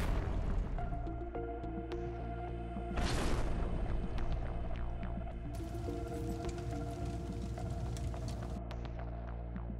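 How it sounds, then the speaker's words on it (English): Russian howitzer fire striking a Ukrainian vehicle: one loud, broad booming blast about three seconds in, rising over a steady low droning hum that runs throughout, with no voices. "The howitzer opened fire without delay and destroyed the Ukrainian vehicle."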